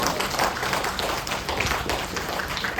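A church congregation claps along steadily during a Malaysian Christmas sermon, dense continuous applause filling the room at moderate loudness with no pauses.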